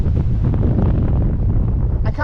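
Strong wind buffets the microphone high up on the Sik fairground ride at Flamingo Land, a loud, continuous low roar with no break, and a voice comes in briefly at the end.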